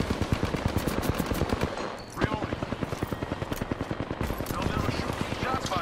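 Rapid automatic gunfire from the video game Apex Legends rattles in dense, loud bursts with a brief pause midway, set over a low droning background.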